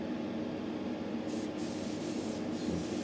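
A steady hiss of compressed air is blown over a Revell 1/32 Heinkel He 111 plastic scale model to clear dust before priming, continuous and close for the whole stretch.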